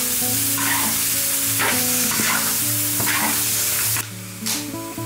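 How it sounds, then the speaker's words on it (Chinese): Fish stir-fries in a wok of hot oil in a rural home kitchen, making a loud, continuous sizzle broken by repeated scraping strokes of a spatula, with a sharper burst near the end. "我把鱼下锅"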